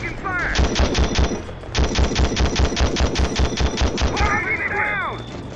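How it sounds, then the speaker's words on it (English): Sustained automatic gunfire from the desert war video game Conflict Desert 2, with rapid evenly spaced bursts rattling loudly for most of the clip, a brief pause near the two-second mark, and whistling effects at the start and end. "Taking fire!"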